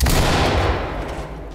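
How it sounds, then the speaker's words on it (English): Dense, loud gunfire in the tactical shooter Ready or Not, overlapping shots and echoing blasts filling a short burst that tails off slightly toward the end. "Shots fired in the garage."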